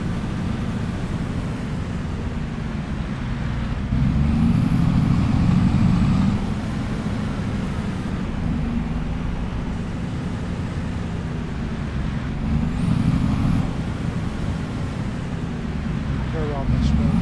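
A truck engine hums and drones as the vehicle drives around a farm yard in Farming Simulator 25, its engine note swelling twice, with a person talking over it.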